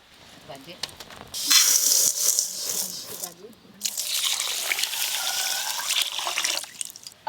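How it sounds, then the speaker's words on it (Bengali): Gobindobhog rice being washed as water is poured over it in a pan, a splashing, gushing wash in two bursts with gritty swirling, heard close with a short quieter pause between them. "এবার ঢেলে জল দিয়ে ধুয়ে নেব।"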